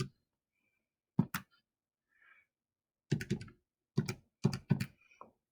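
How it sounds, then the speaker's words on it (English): Buttons pressed on a calculator in a quiet room: sparse, soft clicking taps, single and in quick clusters, with pauses between them. "I'm going to get my calculator out."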